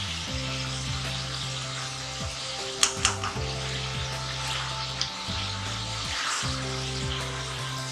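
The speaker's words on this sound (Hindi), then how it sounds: "गोश्त को अच्छी तरह हमने भून लिया" Mutton being fried in a pressure cooker pot for a stew, a steady close sizzle running throughout with a few sharp clinks and stirring knocks around the middle.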